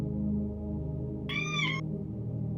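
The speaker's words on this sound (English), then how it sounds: "There's a cat in there with you." A cat gives one short, clear meow, close by, over a steady low droning hum that runs throughout.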